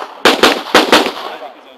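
Gunfire during shooting practice: four sharp loud shots in two quick pairs, each leaving a short ringing decay, with no talking.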